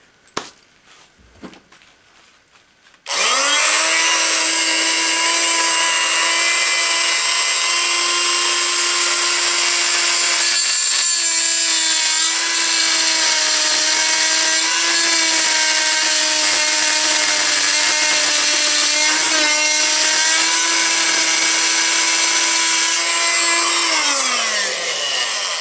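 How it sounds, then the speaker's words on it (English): Power saw cutting aluminum tubing for a DIY folding bucksaw, starting abruptly after a few light knocks and running as one loud, steady, continuous whine for about twenty seconds before winding down at the end. "I'm going to use a power tool just to be a bit quicker on the process"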